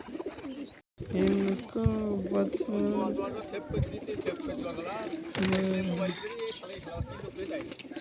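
Paired pigeons cooing in repeated throaty bursts, close and fairly loud, with human voices talking in the background and brief pauses between calls.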